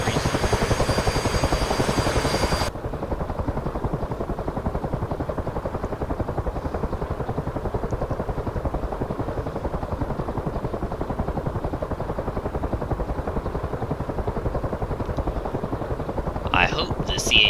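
A CH-53 helicopter in the DCS World flight game drones with a loud, steady rotor and engine roar that holds throughout, with a brief clatter near the end.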